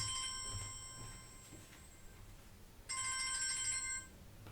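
A mobile phone ringtone chimes in two bursts, a melodic tone that fades out then comes back louder near the end, with no talk over it.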